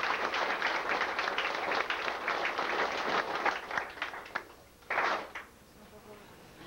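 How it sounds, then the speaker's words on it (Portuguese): Sustained applause from a crowd at a family reunion gathering, dense clapping that thins out toward the end with a final brief burst. "Levanta, uma salva de palmas."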